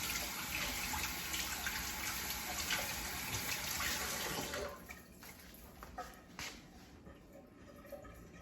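Water runs steadily from a tap as someone rinses off after making a peanut butter and jelly sandwich. A loud continuous gush fades to a quieter trickle partway through, with brief splashes, and no voices.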